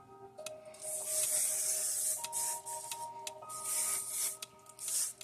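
Hair spray sprayed onto flyaway hair in several hissing bursts, each a second or so long with short pauses between, close and fairly soft, over a faint steady background hum.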